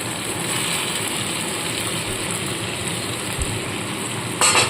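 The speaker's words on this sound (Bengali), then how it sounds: "এবার এর মধ্যে আমি ভেজে রাখা আলু আর পেঁয়াজ কলিগুলো আগে দিয়ে দেবো" Fried potatoes and spring onion stalks hit hot oil and cooked-down spice masala for a Bengali bhola fish dish, giving a steady, close sizzle with light stirring scrapes and a brief louder crackle near the end.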